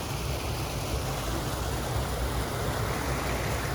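Lithia Creek runs through a summer park in Southern Oregon beside a shallow wading pool, giving a steady, dense rush of flowing water that stays even and close for the whole stretch, with no voices over it.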